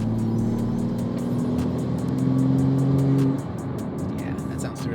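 Modded BMW M3 G80 xDrive engine holding a steady droning rev with strong low tones, then dropping off abruptly to a lower idle-like rumble, heard up close alongside faint background sounds.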